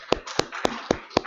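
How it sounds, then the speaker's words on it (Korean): Five sharp, evenly spaced claps from a church congregation, loud and crisp, each a single joined hit separated by brief gaps. "하나님께 박수 영광 돌립니다."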